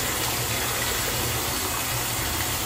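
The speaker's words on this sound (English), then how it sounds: "I got fucking hot water coming out this hose at the same time as the tub's fucking filling up" Hot water gushes steadily from a hose while a bathtub fills, making a continuous broadband rush of flowing, splashing water with no talking over it.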